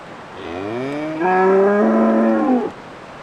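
A single long, loud cow moo close by a camper van parked at a spot in Norway, rising in pitch and swelling into a full bellow before cutting off, with no voices.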